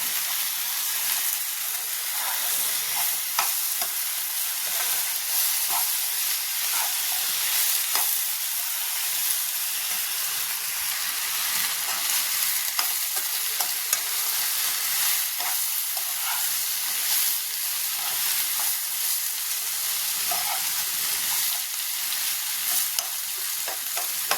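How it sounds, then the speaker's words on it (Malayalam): Jackfruit masala frying and being stirred in a pan, giving a steady close sizzle and hiss with faint scraping and clicking throughout, no voices. "നമ്മൾ നല്ലതുപോലെ ഒന്ന് ഇളക്കി കൊടുക്കാം"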